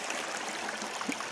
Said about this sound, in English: there's a decent amount of water that flows in this little creek